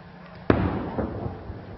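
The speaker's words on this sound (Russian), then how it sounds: "Вот это, наверное, дальняя артиллерия бьет." A single distant artillery shell explosion, a sharp muffled boom followed by a rumbling tail and a fainter second thud, heard outdoors in a war zone.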